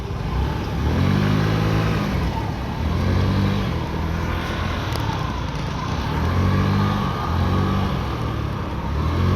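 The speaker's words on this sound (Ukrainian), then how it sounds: "Двигун працює тихо, без посторонніх шумів." A Honda Dio AF68 fuel-injected scooter engine runs steadily up close, with a rhythmic pulsing drone that swells and eases every couple of seconds, no voices.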